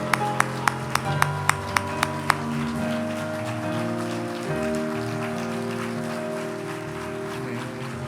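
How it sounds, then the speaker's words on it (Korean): At a Sunday church service, a few sharp, evenly spaced claps open the sequence before the congregation settles into a dense, continuous patter of clapping under steady music. "네, 끝까지 뜨겁게 박수로 격려해 주시면 감사하겠습니다."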